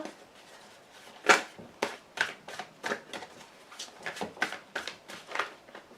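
Tarot cards being shuffled and drawn by hand, a close series of crisp riffling flicks and slaps in an irregular rhythm, fairly quiet, with no talking.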